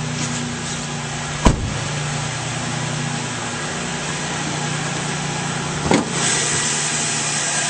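Engine of a 2001 Ford Windstar LX idling steadily under the open hood, a close, even hum with two short clunks, no voices.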